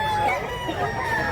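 A white rooster, a four-year-old bird offered for sale, crows in one sustained call lasting about a second, close and fairly loud against a steady background.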